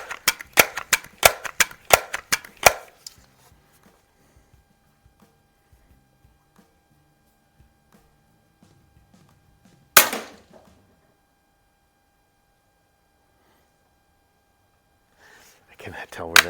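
Daisy 35 and Crosman 760 air guns shooting BBs and pellets at a target 21 yards away: a fast string of sharp snapping shots, then a long quiet gap broken by one loud crack and a last shot near the end.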